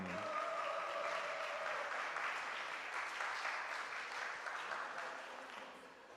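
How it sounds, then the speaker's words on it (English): Spectators at a para shooting world championship in Lima, 50m rifle prone event, give steady applause for a Swedish coach, a dense clapping wash that starts with an announcer's voice and slowly tapers off. "A big applause for the coach, Pernilla Svensson."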